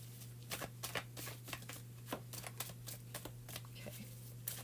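Tarot cards are shuffled close up in quick, uneven bursts of riffling and slapping over a steady low electrical hum, faint overall with no talk.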